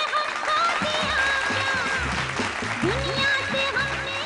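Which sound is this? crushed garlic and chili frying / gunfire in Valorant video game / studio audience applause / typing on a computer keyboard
studio audience applause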